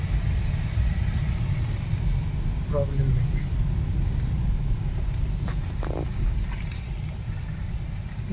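A car's engine rumbles low and steady as the vehicle is turned around on a rainy road at Malshej Ghat, close and continuous while people talk briefly over it.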